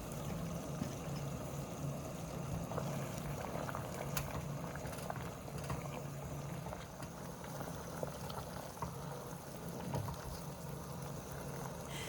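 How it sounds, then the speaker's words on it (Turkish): Sugar syrup for a syrup-soaked dessert bubbling steadily in a pot on the stove, a continuous close simmering hiss and fizz with small pops throughout, no voices. "Şerbetimiz yavaş yavaş kaynamaya başladı. Gördüğünüz gibi üzerinde baloncukları oluştu."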